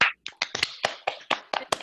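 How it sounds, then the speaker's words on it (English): Scattered clapping from a few guests on a Zoom call for guest Malindi Elmore, a quick run of sharp, uneven claps over about two seconds, close and unaccompanied by talk. "let's give a rousing round of applause to our guest"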